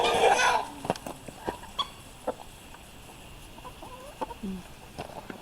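A group of chickens with a young rooster makes scattered clucks and squeaky calls in a farmyard, starting with a louder burst of noise, with soft footsteps and rustling in between.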